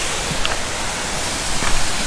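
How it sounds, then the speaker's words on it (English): Steady broadband rush of a waterfall on a Shenandoah trail, heard approaching around a bend, a continuous hiss with no pauses and no talking. "I think I hear the waterfall right up ahead here."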